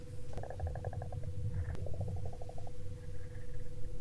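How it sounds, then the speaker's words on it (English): An alien creature from Star Trek Continues purrs in short, rapid pulsing bursts over a low rumbling hum, the rhythmic trills coming in a few clusters. "It's purring to us."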